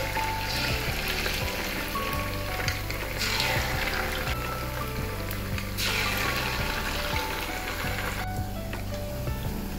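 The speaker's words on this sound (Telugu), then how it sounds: "చూడండి, ఇలా దోరగా బ్రౌన్ కలర్ అంటే వేయించుకోవాలి." Leftover rice pakodi frying in hot oil, a steady dense sizzle and crackle with faint clinks of a utensil, continuous and close throughout, with no talk.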